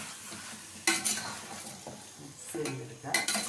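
Ingredients for Mughlai biryani are stirred and mixed in a pot with bursts of scraping and soft metallic clinks, rising and falling over a faint frying sizzle.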